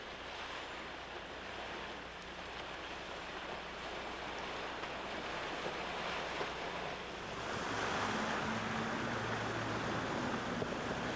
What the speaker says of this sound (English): When driving through water, use third gear, low range.